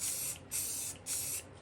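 A spray can applies primer to a model track in three short, close bursts, each a bright hissing spray of about half a second separated by brief pauses.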